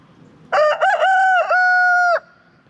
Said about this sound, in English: It's actually really nice to hear a rooster crow.